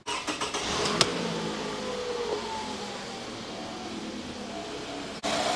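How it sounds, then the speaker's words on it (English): Car with a suspected bad mass air flow sensor cranks with a few quick turns, catches, then settles into a steady low idle, heard close with no talk. "now we're going to start up the vehicle"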